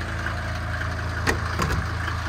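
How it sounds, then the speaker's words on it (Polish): Mercedes-Benz T1 310 van engine idling while warming up, a low, steady diesel-like rumble heard at a moderate level, with a couple of brief clicks or knocks near the middle and no talk. "Jak widzicie, samochód stoi już odpalony, troszeczkę się grzeje."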